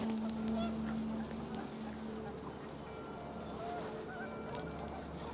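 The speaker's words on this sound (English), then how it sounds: "The wind picked up, and panicked geese appeared and quickly went." Panicked geese honk in the video game What Remains of Edith Finch, several moderately loud calls scattered over a low, steady windy rumble, with faint background talk.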